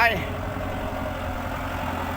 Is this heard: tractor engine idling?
yes